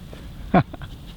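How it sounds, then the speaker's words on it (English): A dog gives a single short whimper, close by and over quiet background murmur. "Dog wants to get some video action."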